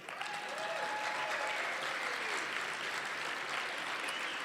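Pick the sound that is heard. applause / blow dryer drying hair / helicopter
applause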